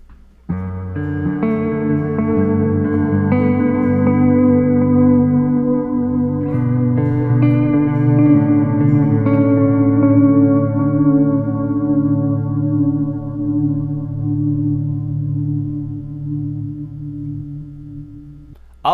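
Electric guitar played through a Line 6 HX Stomp with delay and reverb, notes swelling in softly without attack and blending into a sustained, echoing pad that slowly decays; no talking over it.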